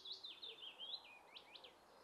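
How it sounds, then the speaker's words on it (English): Very faint, melodic blackbird song with fluting, warbling phrases, heard quietly from a distance over soft background hiss. "There's a couple of blackbirds here."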